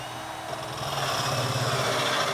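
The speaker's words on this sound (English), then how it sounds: "drill as deeply as you can through the door" A power drill with a hole saw grinds steadily into a wooden door, a continuous buzzing whir that rises slightly as it bites deeper.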